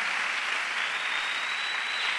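A church congregation applauds steadily and loudly for about two seconds, a dense even wash of clapping with no voices over it.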